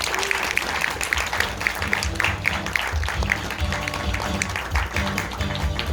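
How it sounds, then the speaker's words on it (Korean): An audience at a talk by a science performer and musician applauds to welcome him on stage, a dense, continuous crowd clapping with a low rumble of room noise beneath it. "박수로 맞으시기 바랍니다."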